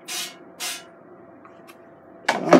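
Two short hissing bursts of cooking oil spray onto chicken wings, a quiet pause with faint clicks, then a louder spray burst at the end.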